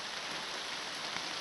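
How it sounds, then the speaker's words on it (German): Steady rain falls through a rainy afternoon as an even, unbroken hiss with faint drop ticks. The sound is moderately quiet and constant, with no voices. "Guck mal, wie das regnet."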